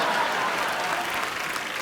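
Studio audience applause at a Hindi comedy talk show taping, a dense, steady wash of clapping that holds evenly loud throughout, with no voices over it.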